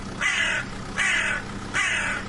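A crow caws three times, loud and harsh, each call evenly spaced with short pauses between.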